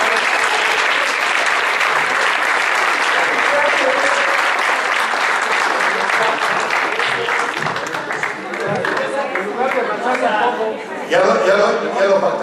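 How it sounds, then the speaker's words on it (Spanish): A political education course audience gives a loud, sustained round of applause for a guest speaker, dense clapping filling the room throughout, with some voices mixed in. "si lo recibimos con un fuertísimo aplauso"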